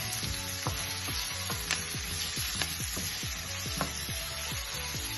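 Carrots, bell peppers, minced garlic and onion sizzle steadily in a hot pan, with repeated scraping strokes of a stirring utensil cutting through the frying hiss at a regular pace.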